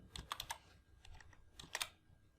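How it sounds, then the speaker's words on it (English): Quiet typing on a computer keyboard while working in an Excel spreadsheet, a short run of quick keystrokes in two clusters, ending with a firmer press of the enter key. "Press enter key."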